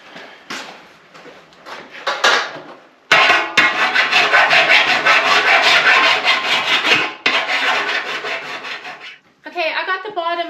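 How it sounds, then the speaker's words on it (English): Loud, continuous rasping of a metal file scraping along the sharp cut edge of a metal barrel in long strokes, with brief pauses and a faint voice near the end. "metal file and going around this edge, just so nobody gets cut on it"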